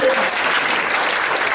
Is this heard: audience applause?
yes